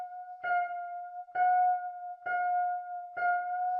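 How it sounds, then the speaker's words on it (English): A single piano-like synth note repeats four times at an even pace, each strike with a slight warbling sustain, clean and isolated. "I guess it's kind of a piano sample, but it could just be a very simple synthesizer sound as well"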